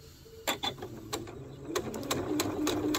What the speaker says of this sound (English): And so I'm just sewing on the lines.